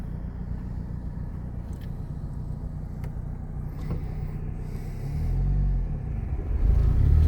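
A manual car pulls away in first gear on the way onto a highway, its engine a steady low rumble inside the cabin that swells and deepens as the revs climb toward the end, with no voices.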